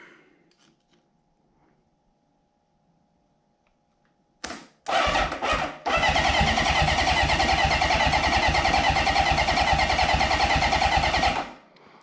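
Motorcycle engine on a project bike with oil squirted into the cylinder and suspected worn rings, cranked after a quiet pause: a few stuttering turns, then it catches and runs loud and steady before cutting off.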